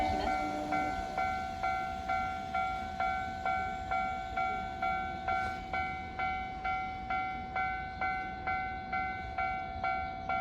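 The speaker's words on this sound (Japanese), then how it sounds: "電車が来ます。" A Keisei 3000 series express train bound for Keisei Ueno passes a Keisei Takasago level crossing. The crossing bell rings steadily in an even two-tone rhythm throughout, and the rumble of the passing train sits low beneath it.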